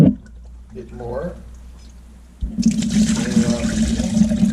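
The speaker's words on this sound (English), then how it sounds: "I drained the water off, I put a little bit more fresh in, just move it around a little bit and drain it off again" Fresh cold water sloshes and drains off salted Arctic char in a container, quiet at first, then a loud steady pouring rush that continues to the end, with a voice talking early on.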